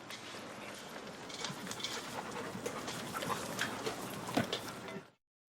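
Dogs licking food plates at a dog training session, a steady wet lapping and panting texture close by with small clinks, no talk, ending abruptly.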